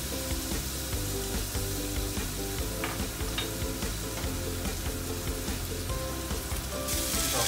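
Chinese New Year dry meat, garlic and fish cake stir-fried in oil, with a steady loud sizzle and crackle and the scrape of stirring throughout, no voices.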